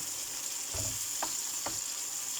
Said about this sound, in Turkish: bu şekilde de bir 5-6 dakika pişecek domatesler yumuşayana kadar